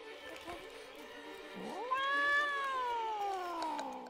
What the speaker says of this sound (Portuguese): é só o Toshinho miando